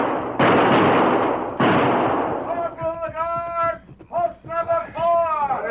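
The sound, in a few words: gunshot in a radio drama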